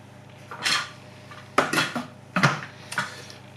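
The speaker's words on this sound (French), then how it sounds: "Je mets mon fouet." A metal whisk attachment is fitted into a Thermomix bowl, four separate clinks and scrapes of metal against the container, close and distinct with quiet gaps between.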